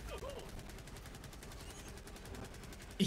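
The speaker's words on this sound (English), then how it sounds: "look out, I got a cannon coming down." Rapid automatic gunfire rattles in a quick, even burst of shots in the Helldivers video game, fairly quiet overall, with a louder impact near the end and no speech over it.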